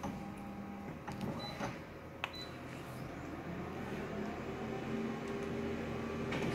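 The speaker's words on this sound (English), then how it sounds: "This machine will run out of magenta toner soon, but hopefully we can keep it going a bit longer" A colour printer with magenta toner, printing a pamphlet, gives off a steady mechanical whir and hum with a few faint clicks and tones, close by, with no voice over it.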